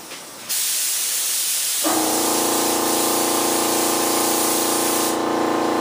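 An aerosol spray can dusts a light coat of paint onto parts for a micro composite P-51 mold, giving a close, loud, continuous hiss that holds steady for several seconds with a brief gap at the start.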